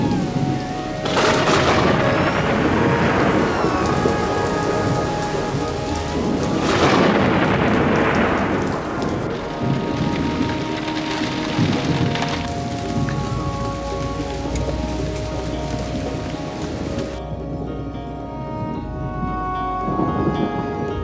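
Heavy rain pours steadily through a lightning storm in Tucson, Arizona, while loud rolling thunderclaps boom and rumble twice, then fade into the constant downpour.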